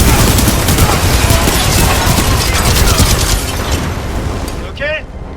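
Explosive charge detonating in the video game Titanfall 2, a loud roaring blast and rumbling debris amid crackling gunfire-like bursts, sustained and close, fading toward the end with a short chirp and voices talking over the din.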